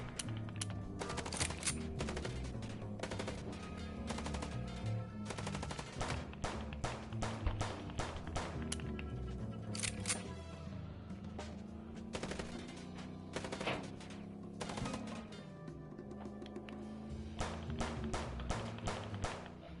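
Rapid automatic gunfire in the video game Chicken Police, dense bursts of shots rattling continuously and loudly for the whole stretch with no voices.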